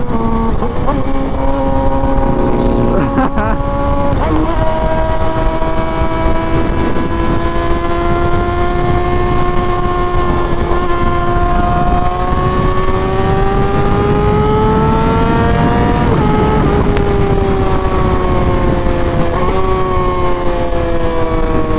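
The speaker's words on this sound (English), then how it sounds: "I literally just enjoy listening to the exhaust" Loud, continuous engine roar from a Suzuki GSX-R sport motorcycle exhaust at speed, the pitch rising and falling as it accelerates and shifts gears.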